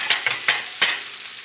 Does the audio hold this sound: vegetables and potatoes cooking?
yes